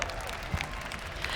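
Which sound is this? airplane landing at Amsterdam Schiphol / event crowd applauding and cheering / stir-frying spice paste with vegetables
event crowd applauding and cheering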